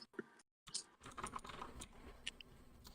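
Close, quiet clicking of computer keys comes in brief uneven bursts with a short gap, light taps scattered across a few seconds with no one talking.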